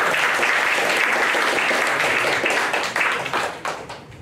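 An audience at a Taiwanese-language cultural talk gives loud, sustained applause to welcome teacher Wu, a dense crackle of many hands that tapers off near the end.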